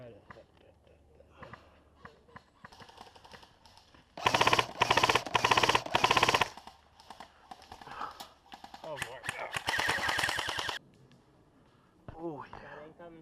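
Airsoft guns fire during an outdoor game at a field called Old Overgrown, including a Classic Army Mk22 Commando, with bursts of rapid clattering shots near and far, loudest in two dense volleys, amid shouting players.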